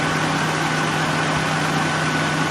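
A Nissan VG33E V6 engine idles at about 650 RPM, a steady, even low hum with a faint tonal drone running unbroken throughout, close and alone.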